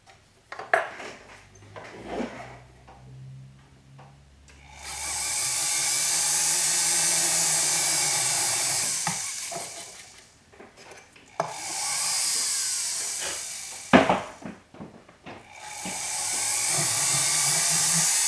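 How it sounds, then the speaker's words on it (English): A small 1 millimeter drill bit bores into ocean jasper stone in three long, steady high-pitched whining runs, separated by quieter clinks and handling noises close by. "Start out with a small drill. This is a 1 millimeter, and I'll probably open that up a little bit."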